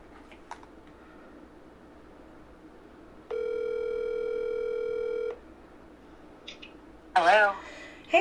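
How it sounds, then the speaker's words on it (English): A phone call rings out with a single steady ringback tone lasting about two seconds against a quiet room, followed by a brief voice near the end. "So I got the phone. It's calling her now."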